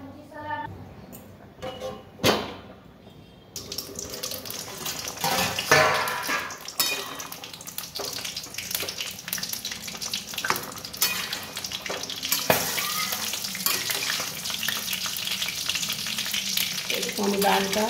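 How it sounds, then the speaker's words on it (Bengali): Chopped bottle gourd frying with split red lentils in a pan, a steady loud sizzle running throughout with occasional scrapes and clinks of a utensil against the metal. "এবার আমি লাউগুলো দিয়ে দেবো।"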